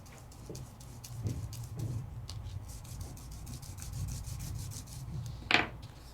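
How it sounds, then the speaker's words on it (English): Steady, faint rubbing of a craft surface being worked to a brushed finish, a soft abrasive scrubbing in repeated strokes with one sharper scrape near the end, no talk. "And I can just rub, rub, rub."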